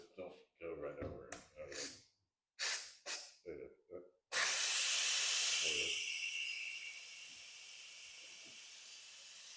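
A pressure cooker abruptly releases steam with a loud sustained hiss that gradually eases to a steadier, quieter rush, preceded by a person talking close by.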